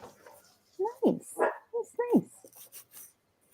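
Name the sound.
dog barking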